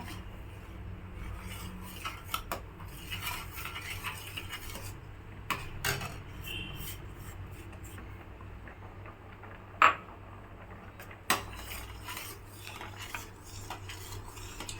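Semolina (rava) for kesari is stirred into boiling water in a pot, with a spoon scraping and ticking against the metal, a few sharper clanks standing out over a low bubbling background.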